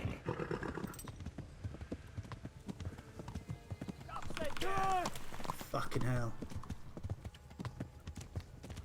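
A fatigued horse gallops in Kingdom Come: Deliverance, hooves pounding in a steady rhythm with a couple of whinnies midway, while a player curses briefly over the action.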